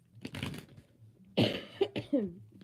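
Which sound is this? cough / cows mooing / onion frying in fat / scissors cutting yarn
cough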